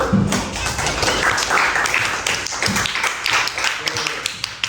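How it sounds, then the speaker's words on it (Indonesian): Students in a classroom give a short round of clapping, with quick uneven hand claps mixed in among a teacher's voice. "Nah, tepuk tangan dulu"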